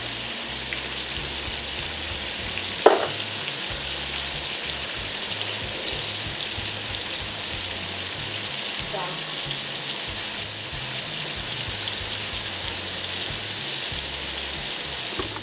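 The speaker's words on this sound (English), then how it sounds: "Sizzle, sizzle, sizzle." Steady crackling sizzle of pork chops frying in a pan, continuous and close, with a brief clatter near the start.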